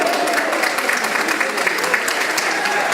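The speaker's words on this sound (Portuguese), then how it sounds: "E o aplauso da torcida." Crowd applause at a São Caetano versus Grêmio Catanduvense football match, a steady, dense clapping wash that fills the whole stretch, with a commentator's voice running beneath it.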